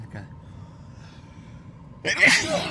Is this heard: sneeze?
yes